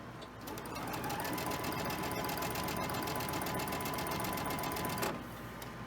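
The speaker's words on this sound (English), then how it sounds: "You're going to sew these 2 pieces together because these go at the bottom." A sewing machine stitches quilt pieces together in a steady, rapid, close mechanical whir with a fine rhythmic pulse for about five seconds, then stops abruptly, with no talking.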